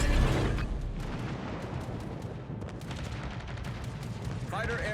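Heavy naval guns fire in a warship battle game, with repeated booming blasts and crackling impacts rolling over a continuous loud rumble, a sharp metallic tone near the end, and a voice commenting beneath.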